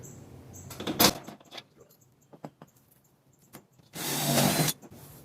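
A power drill whines through aluminum in two short bursts, the second longer and louder, separated by light tapping and handling noises.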